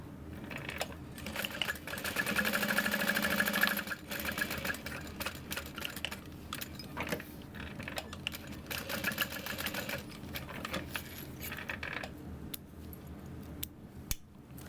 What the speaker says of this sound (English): And then I can just stitch down the center.